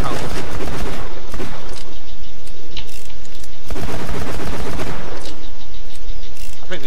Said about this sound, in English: Now you're shooting me with a Tommy gun.